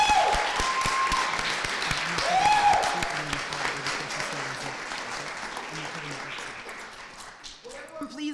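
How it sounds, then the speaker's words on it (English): An audience applauds a student government Speaker of the Senate candidate at a campus debate, clapping sustained for several seconds and gradually thinning, with a voice speaking over and around the applause. "Please give one more round of applause for our Speaker of the Senate candidate."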